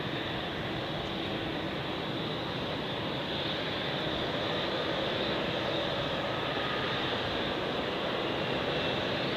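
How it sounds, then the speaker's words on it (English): An Air Montenegro Embraer 195 airliner at Zurich Airport produces a loud, unbroken jet roar that holds steady throughout, close by and with no talking. "Here we have an Air Montenegro Embraer 195"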